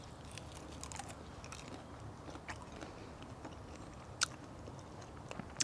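Someone chews fresh, soft, sweet guava picked from a home garden, producing close, quiet, steady crunching and biting with a couple of sharper crunches near the end.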